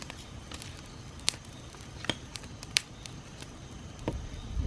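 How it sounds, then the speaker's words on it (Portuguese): Thick branches laid on a campfire catch and burn, giving sparse, sharp crackles and pops over a low steady rumble of flame, close by with no talking. "Eles vão pegar fogo bem rapidinho."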